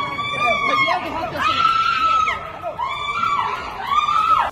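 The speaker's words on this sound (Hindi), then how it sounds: "इस दौरान एक लड़की जोर जोर से चिल्लाती नजर आई।" Girl screaming loudly and shrilly during a student brawl in a university mess hall, her long wailing cries repeating over a noisy crowd with shouting voices close by.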